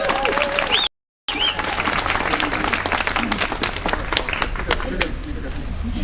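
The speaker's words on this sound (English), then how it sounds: "round of applause for Jan." Crowd applause at a rally at the BC Legislature, loud sustained clapping from many people outdoors, with talk and faint bird calls over it and a brief dropout near the start.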